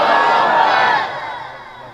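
A gathered crowd at a religious devotional gathering answers the Naara-e-Takbeer call with a loud, unified shout that holds for about a second and then fades away.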